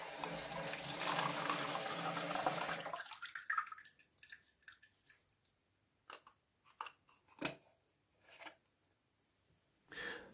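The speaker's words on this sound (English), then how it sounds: "fill a sprig pot with cold tap water" Cold tap water runs into a pot, a loud rushing stream for about three seconds that stops, followed by scattered soft drips, clinks and handling sounds.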